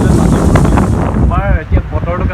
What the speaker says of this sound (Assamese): ইমান ডাঙৰ বতাহ বৰষুণ মানে হঠাৎ আহিলে বতাহ